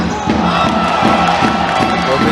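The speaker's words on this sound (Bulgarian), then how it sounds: "Публиката на домакините мощно подкрепя своите любимки." Home crowd at a women's basketball game in Haskovo cheers loudly and steadily throughout, a dense roar of voices with rhythmic chanting pulses.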